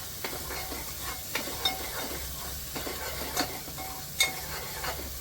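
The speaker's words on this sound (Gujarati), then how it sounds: "તો જો હવે મસાલો શેકાઈ ગયો છે" Chole masala roasts in a pan with a soft, steady sizzle, broken by sharp scrapes and clinks of a spoon stirring against the metal every second or so. No one speaks.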